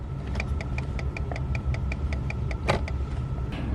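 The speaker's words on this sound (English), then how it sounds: "any car guy knows that fast clicking is a burnt out bulb" A rapid, even ticking of a Ford F150 turn signal with a burnt-out bulb, about four clicks per second, close up over a steady engine hum.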